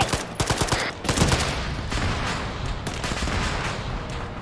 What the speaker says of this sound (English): People shoot at the crew.